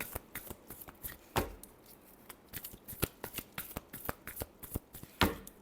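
A deck of tarot cards shuffled by hand, close up, with irregular papery snaps and riffles, a few sharper slaps standing out, heard alone without speech.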